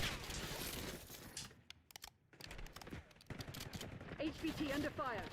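Rapid bursts of gunfire from Black Ops 6 crackle loudly, with a short lull in the middle before the shooting resumes, and voices sound faintly underneath.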